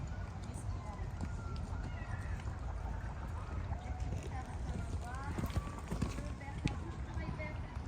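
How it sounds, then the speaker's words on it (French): A horse gallops nearby, its hoofbeats thudding in a fast, uneven rhythm as it changes its gait, with a person's voice talking over the steady footfalls. "Il est en train de changer son galop."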